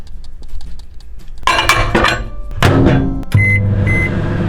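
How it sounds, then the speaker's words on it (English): Dishes clink and clatter as a bowl of apple with apple pie spice goes into a microwave oven, followed by a few short beeps and the steady hum of the oven running. "I'm going to add this apple pie spice to it and microwave it for about a minute"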